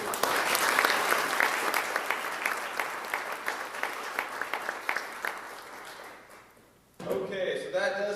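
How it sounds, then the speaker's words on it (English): Audience applause for the speakers at a county workforce summit; dense clapping that thins into scattered claps and fades out, then a voice starts speaking. "I just want to give a quick thank you and round of applause to our speakers."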